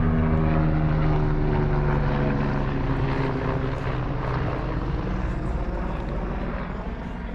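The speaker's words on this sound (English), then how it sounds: "Even better, helicopter." A helicopter passes close overhead: a steady, loud engine drone with a chopping rotor pulse, slowly fading toward the end.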